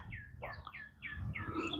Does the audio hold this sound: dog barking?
no